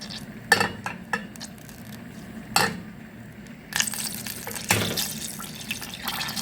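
Butter melts in a pan for béchamel, a soft low sizzle with intermittent clinks and scraping, fairly quiet and close, with no talk.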